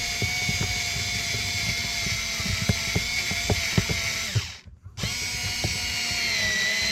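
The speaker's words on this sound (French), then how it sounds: "Donc, et on visse à l'intérieur." A power screwdriver drives speaker screws into a Citroën Picasso door panel, giving a steady close whine with small ticking clicks. It cuts out briefly near the end, then starts whirring again.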